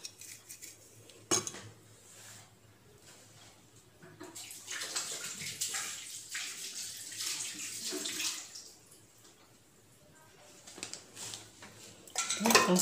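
Water runs and splashes while a brass pooja vessel is rinsed in a sink, with clinks of metal, a sharp knock near the start and a louder rush of water at the end; no talking.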